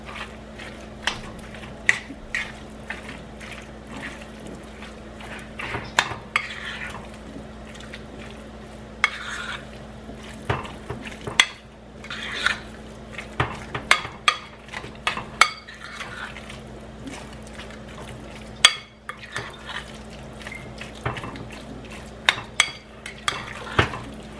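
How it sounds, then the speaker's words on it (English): Taco egg roll filling mixed together in a bowl, with scraping, clinking utensil strikes against the dish and wet stirring sounds scattered irregularly over a steady low hum, close and moderately loud, no talking. "Go ahead and mix that up together."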